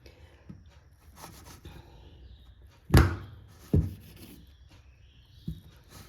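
A knife cuts through a tray of warm sesame gachak brittle at home, giving two firm, close thunks about a second apart with faint scraping and light clatter between them, and no voices.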